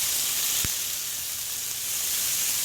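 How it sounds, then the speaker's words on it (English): Smoked turkey bacon sizzles in an oiled pan, a steady hissing fry with one brief knock of the stirring utensil early on, with no talking. "So I'm stirring that up in the pan a little bit, and then I'll add my onions"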